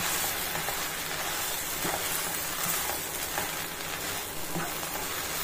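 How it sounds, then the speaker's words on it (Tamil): Bread pieces stirred into masala frying in a pan: a dense, even hiss of sizzling oil throughout, with soft scrapes from the stirring spoon every second or so. "இப்போ அதை நல்லா எல்லா மசாலாவும் அதில் சேர்ற மாதிரி கிளறி கொடுத்துக்கறணும்"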